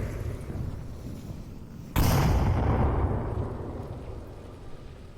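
A frag grenade goes off in the VR shooter Onward, one sudden heavy blast about two seconds in that rolls out into a long, slowly fading rumble over low background noise.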